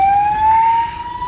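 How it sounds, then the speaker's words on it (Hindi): An ambulance siren wails loud and close on a blocked road to Jammu, holding a steady, slowly rising tone over low traffic rumble. "यहाँ पर एक एम्बुलेंस फंसी हुई है"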